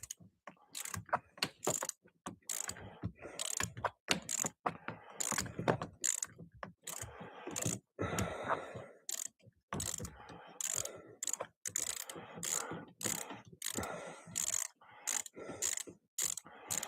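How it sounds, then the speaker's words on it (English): Ratchet wrench with a U-joint socket turning seat bolts on a Nissan Altima driver's seat: rapid bursts of close, crisp clicking separated by short pauses, alone with no talking. "sometimes U-joint sockets are actually a good way to go"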